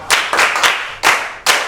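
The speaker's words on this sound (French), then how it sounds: "Allez, on applaudit pour elle." Children in a classroom clapping in loose bursts, several sharp rounds of claps close by and loud, with short gaps between them.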